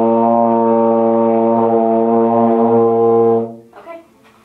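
A student sounds one long steady low note on a euphonium, loud and close, holding it for over three seconds before it stops and a short spoken remark follows.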